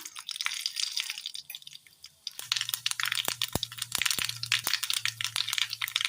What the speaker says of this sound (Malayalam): കടുക് അങ്ങനെ പൊട്ടി വന്നിട്ടുണ്ട്.